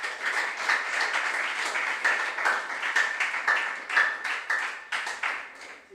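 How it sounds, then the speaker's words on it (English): A school quiz audience claps for the sponsors of a regional junior science and maths final, with rhythmic, fairly sparse clapping from a modest crowd that pulses in loose waves for several seconds. "Let's clap for our sponsors."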